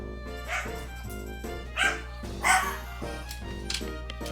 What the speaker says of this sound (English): My dog.